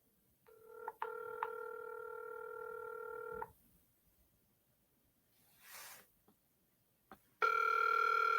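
Phone tones come through close and clear: a sustained multi-tone signal for a few seconds with short key blips, then quiet hiss and a breathy noise, before a loud steady tone returns at the end.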